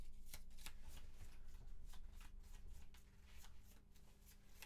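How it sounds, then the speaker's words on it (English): Gloomhaven living corpse monster ability cards shuffled by hand during a solo board game session, repeated sharp riffles and card slaps in a quick rhythm, close and clear with no voices. "And we got to shuffle the living corpses."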